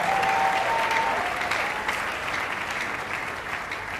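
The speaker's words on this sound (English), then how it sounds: "Let's give Jesus a big, big hand clap." A congregation at a pastors' conference in church claps loudly together, a dense, sustained round of hand clapping that tapers off gradually over four seconds.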